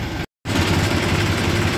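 A tractor engine runs loud and close with a steady low rumbling chug at night, cutting out briefly for a moment before resuming its even drone.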